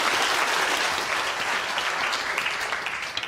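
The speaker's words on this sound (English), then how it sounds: "Big round of applause for Professor Claire Smith." An audience claps in sustained, dense applause for a few seconds after a live demonstration, a steady wash of hands with no speech over it.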